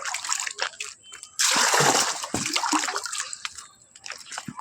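Water scooped and splashed out of a pigeon's drinking container, giving a close burst of sloshing and splattering followed by lighter drips and small splashes.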